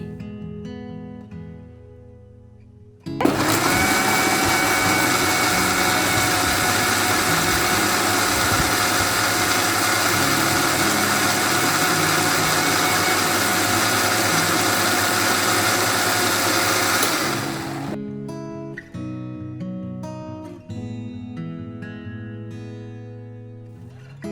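A mixer grinder jar blending a homemade condensed milk mixture makes a loud, steady motor whine that starts abruptly, runs for about fourteen seconds and then winds down, with quiet kitchen clatter before and after.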